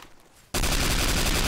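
Automatic M2 carbine fire in the Garry's Mod video game, starting abruptly after a brief quiet moment and continuing as a loud, dense, rapid stream of shots with no talking.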